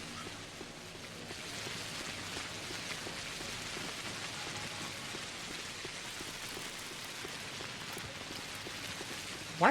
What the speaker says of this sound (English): Why are all you people out here when it's raining?